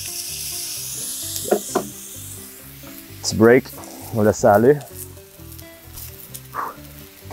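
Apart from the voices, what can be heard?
meat searing and sizzling at high heat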